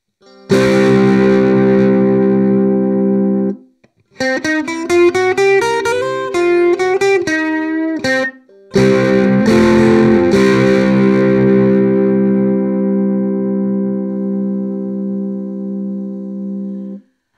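An overdriven, distorted Fanner electric ukulele rings out loud through a Hughes & Kettner Spirit of Vintage Nano amp head: a strummed chord, a quick run of picked notes, then another chord left to sustain.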